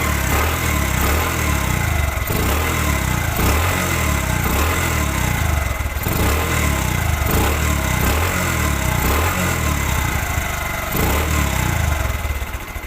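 A Bajaj Platina 100cc motorcycle engine runs steadily up close, a loud, even idle with a regular pulsing beat that holds for the whole stretch without talk.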